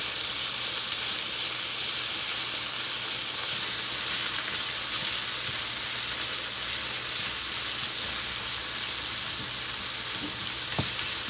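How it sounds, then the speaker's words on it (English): Saltfish frying in a pan as a heat-resistant spatula breaks it up: a loud, steady, dense sizzle throughout, with a few faint scraping taps near the end. "with the tip of my heat-resistant spatula, I'm going to just break our saltfish up just a little bit"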